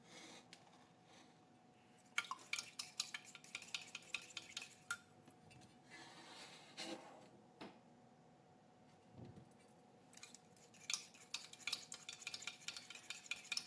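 Fork beating eggs for an omelet in a non-stick pan, quick light clinking and scraping strokes in bursts with short pauses, close and fairly faint, a soft sizzle underneath.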